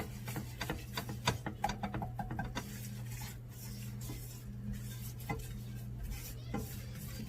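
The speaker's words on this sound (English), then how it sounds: "So you keep stirring and let it brown up." Flour is stirred in a pan for country-style gravy, a spoon scraping and tapping against the pan in irregular clicks over a low steady hum, with no talk.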